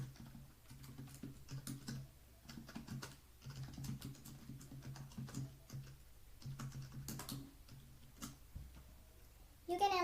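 Computer keyboard typed in quick, irregular bursts of light clicks with short pauses between, fairly close and soft, while a post is entered for social media.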